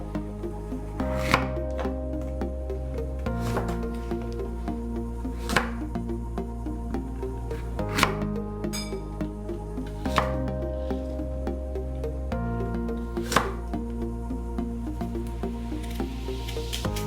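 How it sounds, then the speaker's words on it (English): A knife slices Granny Smith apples thinly on a board for an apple tart, with sharp, close cutting strokes repeating about every two seconds over a steady low hum and no talking. "We only need 3 apples for this recipe, and we're going to slice them thinly."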